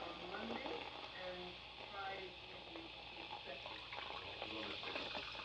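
Soda pours into a glass with ice, a fizzing, trickling stream that runs continuously beneath muffled talk in the background.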